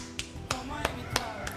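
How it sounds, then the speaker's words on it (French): Five sharp hand claps ring out close by in a quick, evenly spaced rhythm. "J'applaudis."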